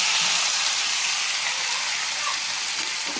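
Tengra fish frying in mustard oil, giving a steady, dense sizzle that stays even and fairly close throughout with no pauses.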